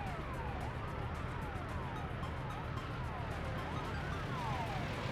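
Wailing emergency vehicle sirens in the city-building game Workers & Resources sweep up and down repeatedly, overlapping in a steady, continuous loop under a low background rumble.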